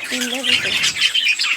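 Small birds chirp and squawk in a busy, close cluster, with a brief voice-like tone at the start.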